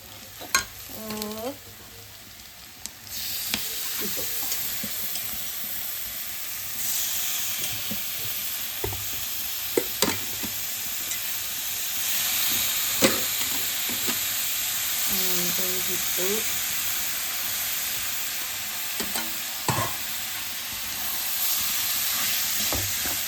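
Prawns sizzle and fry in a pan for a pepper prawn curry, a steady loud hiss of frying with several sharp stirring scrapes and clinks scattered throughout.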